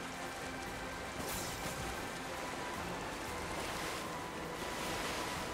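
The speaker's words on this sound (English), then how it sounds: "And we'll go through the waterfall." Steady broadband rush of a waterfall in Kingdom Hearts 3, a continuous wash of falling water at even loudness with no talk over it.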